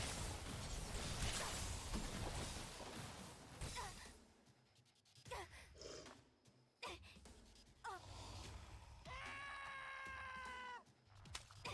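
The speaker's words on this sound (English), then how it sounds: "That scream that it does, incredibly comedic." A comedic scream from an enemy in the roguelike video game Spell Disk, a sustained harmonic wail lasting a couple of seconds near the end, after scattered whooshes and short game effects.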